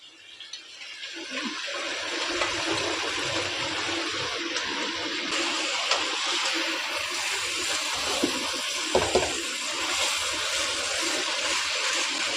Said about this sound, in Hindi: थोड़ा सा पानी डाल रही हूँ